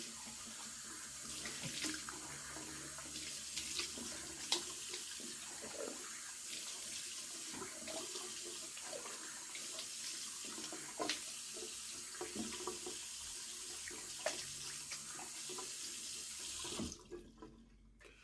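Tap water runs steadily into a bathroom sink while someone rinses off after a shave with a Merkur 34G safety razor, a soft continuous splash with small hand-splash bursts, cutting off abruptly near the end.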